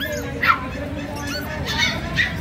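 A small Pomeranian gives a few short, high yips and whimpers close by at a Manila market, spaced irregularly over a steady background hum.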